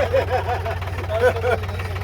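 A tractor engine runs steadily with a low idling drone while driving off-road on a rough track near Manali, with voices talking over it throughout.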